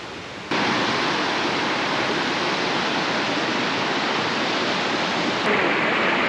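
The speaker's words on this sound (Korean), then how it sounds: "여기는 물소리나 이런 것 때문에 소리길이라고 부르는 것 같아요" Water rushes steadily through the Hongryudong valley stream along the Haeinsa Sorigil trail in Gayasan National Park, a dense, continuous broadband roar that stays loud and even with no voices.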